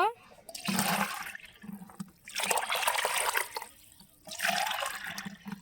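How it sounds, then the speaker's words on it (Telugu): Tea powder water poured onto plants, heard as three bursts of splashing, trickling liquid separated by short pauses, close and moderately loud. "ఇలా డైరెక్ట్గా పోసుకోవడమే ఇప్పుడు టీ పౌడర్ వాటరు"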